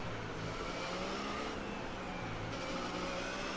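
A Haas Formula 1 car's engine roars at full throttle in a racing video game at Spa, a steady, dense, high-pitched drone that stays loud and constant with no talk over it.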